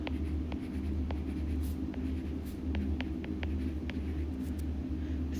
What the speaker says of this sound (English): step 1 is you are going to draw a line